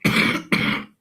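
A man gives two harsh coughs in quick succession, loud and close, with nothing else around them.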